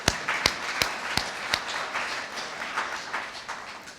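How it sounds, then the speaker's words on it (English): An audience at an annual meeting claps, starting with several sharp, distinct claps that blend into a looser, softer spread of applause from many hands. "let's give all of you a round of applause."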